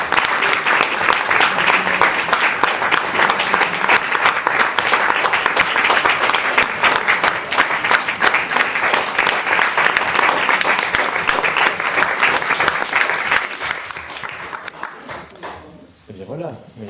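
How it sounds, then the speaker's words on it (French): Warm applause fills a municipal council chamber, with dense sustained clapping from the assembled room for about thirteen seconds before it thins out and fades. "Donc je pense qu'on peut l'applaudir très très fort."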